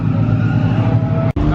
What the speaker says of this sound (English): Got your S13s dominating, smoking off the wheels.